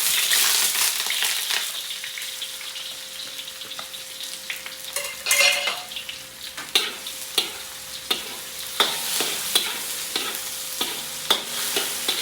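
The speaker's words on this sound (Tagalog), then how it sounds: "meron tayo ditong sibuyas bawang, marami. Gisa natin to." Plenty of onion and garlic sauté in a pan for chicken adobo with tomato paste: a constant oily sizzle, then a burst of stirring and a run of sharp spoon taps and scrapes against the pan. No speech.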